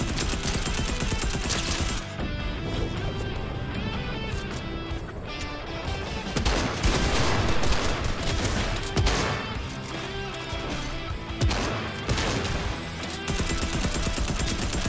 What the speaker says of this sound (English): They're shooting at the beach.